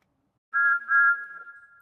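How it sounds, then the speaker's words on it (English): A short, clear two-tone train whistle sounds, nearly steady in pitch, with a brief break before it holds and fades, heard alone and close. "Whistled Thomas excitedly."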